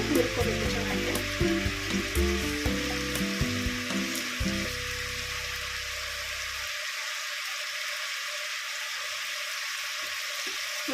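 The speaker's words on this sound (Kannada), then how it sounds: "ಪಡವಲಕಾಯಿನ ಸ್ವಲ್ಪ ಚೆನ್ನಾಗಿ ಫ್ರೈ ಮಾಡ್ಕೊಳ್ಳೋಣ. ಎರಡು ನಿಮಿಷ ಪಡವಲಕಾಯಿ ಹುರ್ಕೋಬೇಕು ಚೆನ್ನಾಗಿ." Snake gourd pieces fry in a pan with a busy, crackling sizzle for roughly the first seven seconds. The sizzle then thins to a quieter simmering hiss with no talking.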